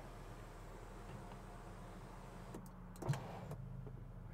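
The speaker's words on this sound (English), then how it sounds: "And then up above, you have your sunroof controls. Alright, look at your sunroof." The electric sunroof on a 2021 BMW X5 xDrive40i hums as its motor slides the panel open, a low steady whir inside the cabin, ending with a soft thunk and a few faint clicks.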